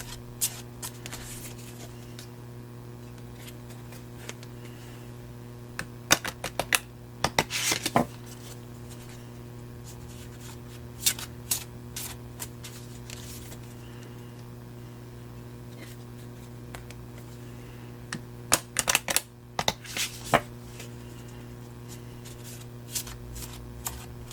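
Tarot planet cards shuffled by hand in quiet, with scattered crisp riffling bursts and soft rubbing over a steady electrical hum.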